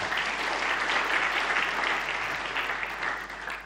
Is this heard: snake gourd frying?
no